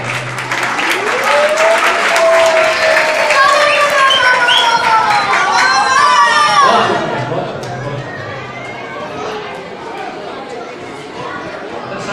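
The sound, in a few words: audience clapping in applause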